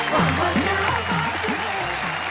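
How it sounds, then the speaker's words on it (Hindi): An audience at a Hindi comic poetry show applauds a poet coming on stage, a dense steady clapping under a voice talking throughout. "हम जोरदार तालियों से स्वागत करेंगे गुरु सक्सेना।"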